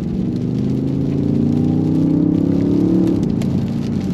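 A 653-hp BMW XM weighing 2.7 tonnes accelerates in Sport Plus mode. Its deep engine note climbs steadily in pitch for several seconds, loud and heard from inside the car.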